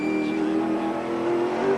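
Touring race cars at the 1995 Sandown 500 roar past with a steady, loud engine drone and a rising whine, heard close under broadcast conditions without clear speech.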